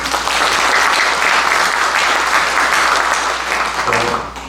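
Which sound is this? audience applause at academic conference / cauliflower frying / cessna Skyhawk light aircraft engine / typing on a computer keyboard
audience applause at academic conference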